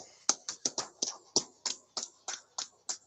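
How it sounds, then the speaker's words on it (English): Hands clap in a crisp, sparse series of about a dozen separate claps with short gaps, close and clean against a quiet background, at a class gathering. "Clap, clap, clap it up."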